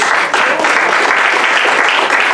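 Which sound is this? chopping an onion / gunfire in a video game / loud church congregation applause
loud church congregation applause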